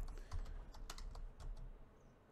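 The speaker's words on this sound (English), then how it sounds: "I know I can copy this, but I would like to type it on my own," Quick, steady typing on a computer keyboard while a DNS dig query is entered, a close run of crisp key clicks over faint room noise.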